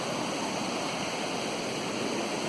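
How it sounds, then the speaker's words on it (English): Muddy water running across a road beside a lake after erosion, a steady broadband rush like a small stream, continuous and fairly close with no talk over it. "we got water running across the road"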